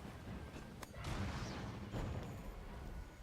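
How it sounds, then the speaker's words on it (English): Explosions in the video game Monster Hunter: World, two faint booming blasts about a second apart with a noisy rumbling tail, quiet and distant under game background noise. "Explosion."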